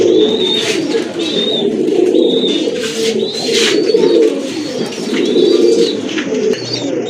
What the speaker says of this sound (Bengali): মাশাল্লাহ দেখতে পাচ্ছেন এক জোড়া গড়া, সাথে কিন্তু দুইটা কিউট বেবি আছে, মাশাল্লাহ কালার কিন্তু অনেক সুন্দর কবুতরগুলো দেখার মতো।